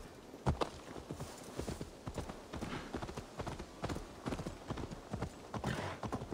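Horse hooves clip-clop steadily while riding a mount in Assassin's Creed Valhalla, set in East Anglia, England. The rhythmic footfalls are close and continuous, with no talking.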